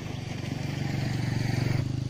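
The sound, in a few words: motorcycle passing by rice fields in rural Bali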